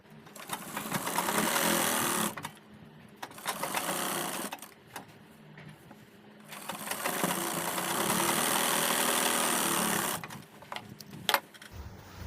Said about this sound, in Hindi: तो यहाँ से लगाएंगे हम सिलाई